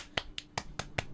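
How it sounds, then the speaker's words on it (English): Five sharp hand claps land right against the microphone in quick, slightly uneven succession, each a loud, crisp smack with nothing else in between. "Sorry for clapping right in the mic there as well."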